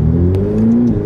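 A 2020 Ferrari F8 Tributo accelerates in a brief, loud engine surge heard from close by, its tone rising steadily over about a second with no talk.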